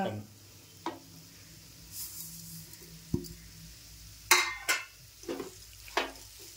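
Sugar for a mango sweet stirred and melting in a pan, with soft scraping and sizzling strokes scattered through, a few sharper clinks and scrapes standing out near the end, close and fairly quiet.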